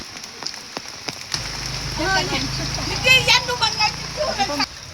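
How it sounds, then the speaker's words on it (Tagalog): Rain drumming on a galvanized iron roof of a leaking house, a dense steady patter under a person talking throughout, with a few sharper drips early on. "ang iyang balay karon gaulan man, so inaani na gyud ang tulo"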